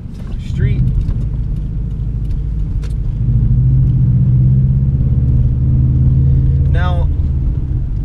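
A 2014 Subaru WRX driving along and turning into a street, with a steady low engine and road rumble heard from inside the car while a person talks throughout.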